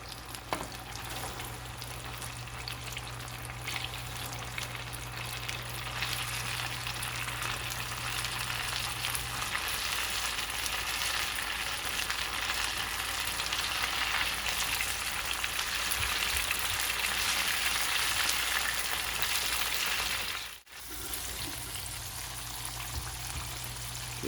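Cauliflower nuggets fry in hot oil in a pan on a stove top, giving a steady, dense sizzle and crackle that carries on for a long stretch, with a low hum early on and a brief dip near the end.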